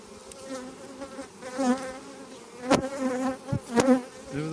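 Honey bees hum and buzz at close range around an opened beehive, their wavering drone continuous, with a few sharp knocks and clicks breaking through and no speech.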